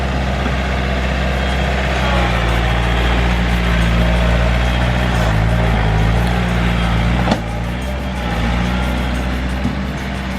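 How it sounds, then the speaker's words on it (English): A tractor engine drones steadily at close range with low rumbling while moving gravel rocks around a landscaping job, with a brief sharp knock near the end. "My dad has the tractor and he's just moving all of these gravel rocks around"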